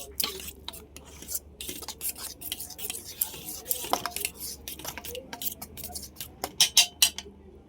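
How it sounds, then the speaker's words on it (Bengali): Pakora batter with fenugreek leaves stirred in a bowl: a spoon scrapes and clinks irregularly against the sides, with soft wet mixing sounds and brighter taps toward the end. "এখন আমি ব্যাটারটার মধ্যে কিন্তু মেথি পাতা দিয়ে দিলাম কিছুটা, ভালো করে মিশিয়ে নিই।"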